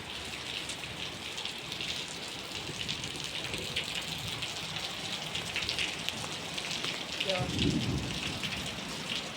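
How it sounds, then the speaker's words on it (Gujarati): Heavy rain falls steadily near a hotel where a bus is parked, a dense hiss of drops with a low thunder rumble rising near the end; a voice briefly speaks over it. "જો આ વરસાદ પડે છે."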